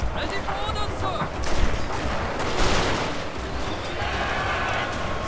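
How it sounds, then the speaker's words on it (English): Musket volleys crackle through a Shogun 2: Fall of the Samurai siege battle as troops fire on attackers climbing walls, a dense, continuous rattle of distant gunfire with louder bursts swelling amid game battle noise. "we're just shooting these guys up as they come slowly, one at a time"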